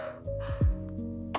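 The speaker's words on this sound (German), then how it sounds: "Ich gähne." One close, drawn-out yawn with a falling, groaning tone that lasts about a second, heard over a steady background of soft music.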